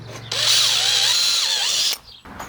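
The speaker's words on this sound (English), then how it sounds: "I'm going to pre-drill these, make mounting a little bit easier." A power drill pre-drilling mounting holes in a Bürstner 744 motorhome whirs loudly and steadily for under two seconds, its pitch dipping slightly as it bites, then stops abruptly.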